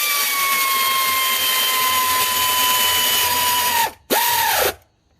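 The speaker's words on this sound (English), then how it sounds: "air tool to tighten them" Air tool tightens bolts on the alternator of a 2008–2013 BMW M3 E90/E92/E93, giving a loud, high-pitched pneumatic whine that slowly drops in pitch, cuts out briefly, then spins up again for a shorter burst before stopping.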